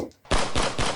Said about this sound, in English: the rifle grenades will fire